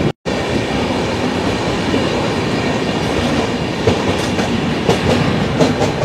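Humsafar Express train running on tracks past Dum Dum, a loud, steady rumble close by with rhythmic clickety-clack of wheels over rail joints growing more pronounced toward the end, after a brief silent gap at the start.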